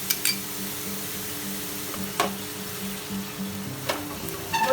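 Sour yogurt goes into a pan of fish korma, and a steady close sizzle continues as it is stirred, with occasional clinks of the spoon against the pot.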